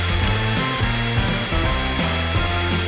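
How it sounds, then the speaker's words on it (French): A hair dryer blows continuously at close range, melting Skittles candy paint onto a cake, with a steady whirring roar that wavers slightly in pitch. "j'ai besoin d'un sèche-cheveux pour faire fondre la peinture des Skittles"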